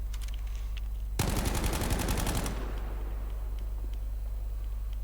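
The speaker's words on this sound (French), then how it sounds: "Donc je tire, hop, là j'augmente l'anti-recul" Rapid automatic gunfire from a weapon in the video game Battlefield V, one burst of about a second and a half fired in quick repeated shots, moderately loud over a low steady background hum.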